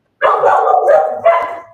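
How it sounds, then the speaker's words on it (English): Several dogs bark and yip in a short, loud, close burst of overlapping barks lasting under two seconds, with no talk. "I know that sound. That's Jim's dogs"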